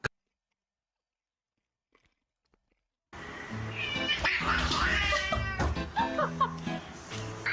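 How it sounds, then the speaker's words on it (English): Cats fighting burst in after a few seconds of near silence, loud yowling, meowing and caterwauling cries tangled together in close, agitated bursts. "he's breaking up the kitty fight"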